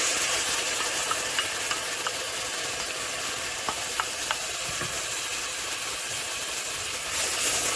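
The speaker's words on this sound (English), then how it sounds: "Stir it in." Lentils and grated garlic being stirred into a hot frying pot, a steady sizzle underneath with scattered faint scraping clicks from the spoon, fairly even and continuous.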